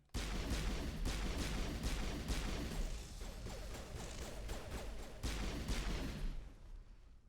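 Rapid pistol gunfire from the video game Mass Effect, a dense, continuous volley of sharp shots over a loud battle din, steady for about six seconds before easing off.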